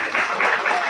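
A short, loud burst of audience clapping for participants at a Republic Day event, dense and continuous for under a second.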